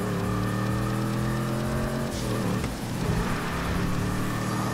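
An Imponte Phoenix muscle car in GTA V accelerating hard, a loud continuous engine roar whose pitch climbs steadily, with a brief dip and shift midway before it keeps pulling, no speech over it.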